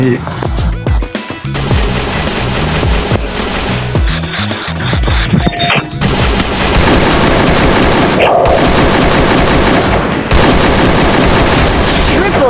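Dense, loud bursts of rapid automatic gunfire and booms from the mobile shooter game Free Fire, nearly continuous over game music and effects, with a voice talking over the action.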